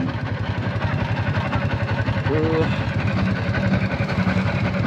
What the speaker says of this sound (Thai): อันนี้ก็รถไถมาเล่นน้ำคือกัน